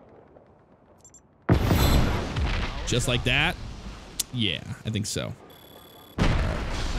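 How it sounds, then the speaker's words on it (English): Loud, heavy blasts of explosions and secondary detonations from the video game Just Cause 3, booming in several bursts with gunfire-like cracks, while people talk briefly between them. "Oh, secondary explosions."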